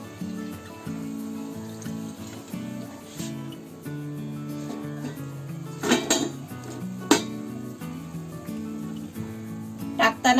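Fried chakli lifted out of hot oil with a metal utensil: repeated clinks and scrapes against the pan over a steady low bubbling of oil, with a few sharper knocks near the end.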